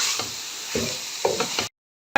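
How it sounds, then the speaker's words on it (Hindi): Minced keema frying and being stirred in a pan, a steady sizzle broken by a few scraping stir strokes before cutting to silence, then a brief burst at the end. "अब कीमे को यहाँ पर मैं अच्छे से 5 मिनट के लिए भून लूँगी।"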